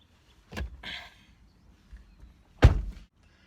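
A car door pulled shut from the driver's seat of an adapted car, with a soft thump and rustle of movement followed by a firm, close slam about two seconds later, in a quiet interior.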